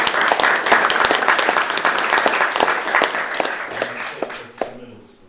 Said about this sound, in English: So a quick round of applause for all the yellow